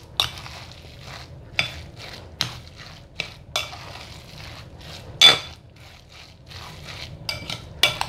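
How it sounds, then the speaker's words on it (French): Homemade chicken nem filling is stirred in a bowl, with steady close mixing noise punctuated by sharp, irregular clacks of the utensil against the bowl's side, no voices present. "Et là je vais mélanger."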